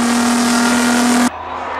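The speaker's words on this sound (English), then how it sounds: "Now let's listen to the sound of this beautiful Audi." An Audi production race car screams at high revs on a racing circuit, a loud, sustained engine whine that cuts off abruptly near the end and leaves a quieter rumble of other cars.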